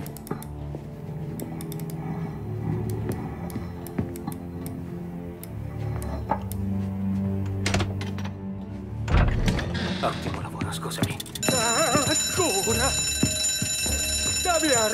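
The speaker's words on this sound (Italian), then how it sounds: "L'allarme!" An alarm rings out during a heist scene in the video game Mafia Definitive Edition, a steady electronic ringing that swells near the end over clattering action sounds and ambient game noise, with characters talking around it.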